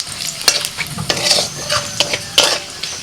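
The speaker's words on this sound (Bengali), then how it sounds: "কড়াইতে আবারও তেল দিয়েছি তেলের মধ্যে ফোড়নে দিচ্ছি পাঁচ ফোড়ন তেজপাতা শুকনো লঙ্কা" Panch phoron whole spices, bay leaf and dried red chillies fry in oil in a kadai, a steady close sizzle broken by metal spoon scrapes and clinks as they are stirred.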